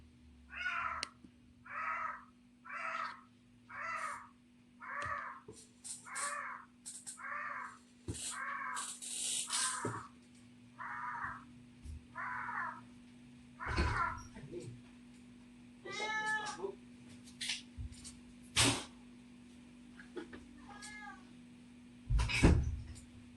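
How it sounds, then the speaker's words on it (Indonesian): A cat meowing repeatedly indoors, with about a dozen evenly spaced cries at first, then scattered louder yowls and thumps amid a steady background hum. "Maka maaf kalau ada suara kucing."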